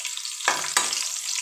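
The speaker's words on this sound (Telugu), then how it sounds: "ఆయిల్ హీట్ అయింది. ఆవాలు వేసాను, 2 పచ్చిమిర్చి, ఇవి కాస్త ఫ్రై అవ్వాలి." Mustard seeds and two green chillies frying in hot oil, a bright crackling sizzle that swells with two sharp bursts of spitting, close by and fairly loud.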